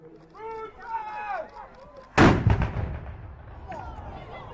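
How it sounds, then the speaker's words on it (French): An artillery piece fires a single loud, close blast at a medieval castle show, the boom decaying over a couple of seconds, following someone speaking beforehand. "et on va tirer. Coup de feu."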